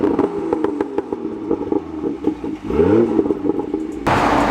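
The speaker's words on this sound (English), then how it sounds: "get some revs for you guys with the stock exhaust" A stock-exhaust BMW F87 M2 revs in short, throaty bursts with clattering, rising and falling engine pitch, close and loud, ending in a rush of broadband noise.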